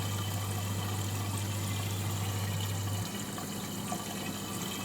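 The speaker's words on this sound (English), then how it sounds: "You just have to bear with us while we pour in the water." Water pours steadily into a brewing vessel in a beer manufacturing simulator game, a continuous even rushing wash with a low pump-like hum that stops partway through while the flow keeps going.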